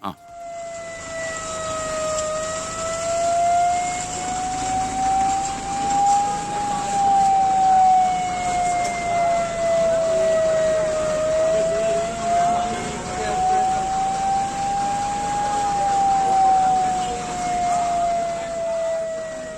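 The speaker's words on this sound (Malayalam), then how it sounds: "ആംബുലൻസ് ഒരുപാട് തവണ ഹോൺ അടിച്ചു" A loud ambulance siren wails continuously, its pitch slowly rising and falling over and over, with faint talk and street noise underneath.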